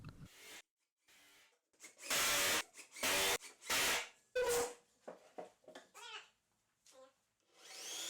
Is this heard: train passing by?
no